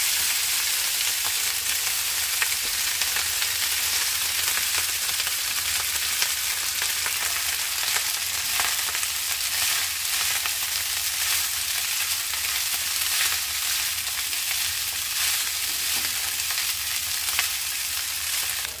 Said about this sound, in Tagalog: Medyo i-toast lang natin yung bawang. Then, ilalagay natin yung ating rice.